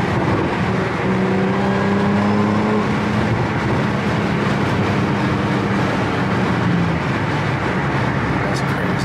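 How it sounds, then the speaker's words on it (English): An Audi S4 downshifting to third gear with the paddle shifter, heard as a loud, steady engine drone with road noise that runs unbroken for about nine seconds. "Downshift, boom, third gear."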